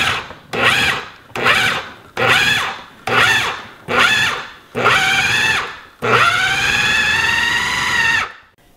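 A food processor grinds cassava for waffles in seven bursts: six short pulses of whirring, then one longer run of about two seconds, loud and close with no talking.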